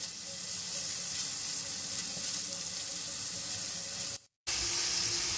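Spiced masala with yogurt frying in oil in a pan gives off a steady, close sizzle that runs throughout, broken only by a brief dropout near the end.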